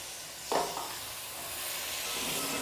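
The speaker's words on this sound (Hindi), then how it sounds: "और लास्ट पे हमारे पास मटर है, ये शामिल कर देंगे।" Potatoes, cauliflower and peas drop into a hot pan for a mixed vegetable pulao, giving a brief burst of sizzle followed by a steady frying hiss, close and alone.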